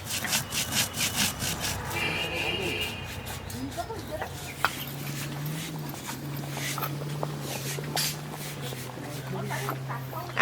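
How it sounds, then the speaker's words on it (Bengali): Cumin, whole garam masala and black pepper being ground into a paste on a grinding stone, giving steady rhythmic scraping and rubbing strokes, with a rooster crowing and a low steady hum in the background. "জিরে গোটা গরম মশলা আর গোলমরিচ এইগুলো বেটে নেবো"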